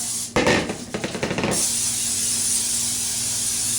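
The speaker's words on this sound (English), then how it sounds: "I'm going to spray our containers with Pam. Or any kind of nonstick spray." Nonstick cooking spray hisses close and loud in several quick bursts onto containers, then a steady hiss lingers in the background.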